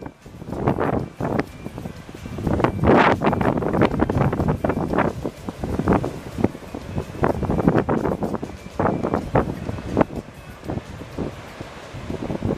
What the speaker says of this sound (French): le vent est fort et les vagues de l'océan Indien sont assez dissuasives